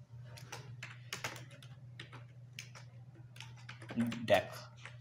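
C++ code being typed on a computer keyboard, with brisk, close key clicks in irregular bursts over a steady low hum, while someone speaks throughout.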